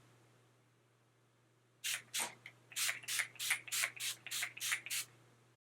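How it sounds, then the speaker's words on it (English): After a faint hum, about ten quick hissing pumps of a makeup setting spray bottle follow in a steady rhythm, close and fairly loud. "I'm gonna set the whole makeup in place with this setting spray."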